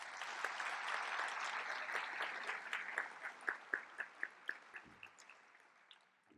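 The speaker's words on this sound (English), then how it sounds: "They deserve another round of applause" Audience applause at a volunteer and high school cadet graduation ceremony, a dense crowd of clapping that thins toward the end into a few louder, distinct claps before fading out.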